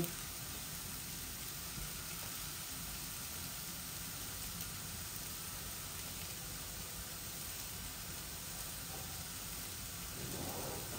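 Karela (bitter gourd) slices frying uncovered in an open pan over a low flame, giving a steady, soft sizzle that holds evenly throughout, like light rain on a surface, with no voices.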